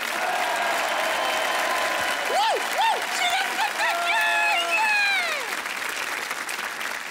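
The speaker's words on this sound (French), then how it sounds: "vous êtes un public adorable et vous l'applaudissez comme des malades" A live magic show audience claps enthusiastically for the magician's assistant, steady crowd applause overlaid with rising and falling vocal whoops and cheers that peak midway, then thin out.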